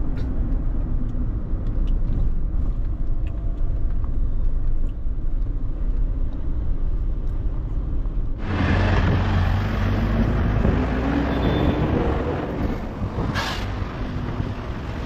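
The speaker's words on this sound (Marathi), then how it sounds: "चालली असा कोकण रेल्वे" A Konkan Railway RORO car train, a Ganpati special, rumbles past close by. A low, steady roar swells sharply midway into a loud, broad rush that carries on to the end, with no talk.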